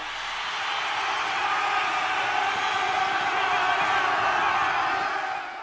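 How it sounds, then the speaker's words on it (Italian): A roaring crowd at a Roman chariot race in the Circus Maximus, a dense, continuous wall of distant voices that swells in over the first second and holds steady, loud and unbroken throughout. "Immaginatevi ora il boato assordante della folla."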